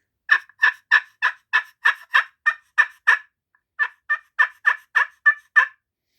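A hand-operated turkey hunting call imitates wild turkey sounds: a run of rhythmic yelps, a brief pause, then another run of yelps, loud, close and clear with no talking.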